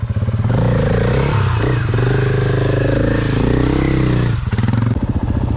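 A Husqvarna FE 450 dirt bike engine revs loud and close on a trail ride, its pitch rising and falling steadily before briefly dropping off near the end.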